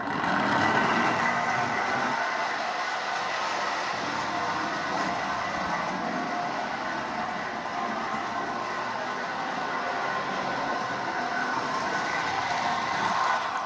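Marx 6000 B dummy unit model train fitted with a newly installed motor runs steadily around its track, a continuous close rumbling whir with a faint rattle that holds an even level throughout.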